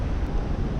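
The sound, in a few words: wind dying down outdoors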